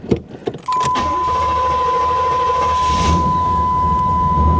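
An old carbureted car with a Rochester Quadrajet, unstarted for a long time, cranks briefly with a few clicks and knocks and then catches, settling into a loud, steady running roar with a high whine, close by and without talk.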